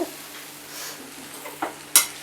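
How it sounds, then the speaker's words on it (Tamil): Coconut pieces are stirred into corn aval upma in a pan, giving soft scraping strokes and a faint sizzle, ending with a sharp metallic clink of the spoon against the pan. "நல்லா கிளறி வச்சுருங்க."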